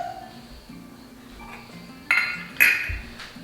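A stick pan set down on a home kitchen stove before frying prawns: a quiet start, then two sharp metallic clanks of the pan against the burner, close and ringing briefly.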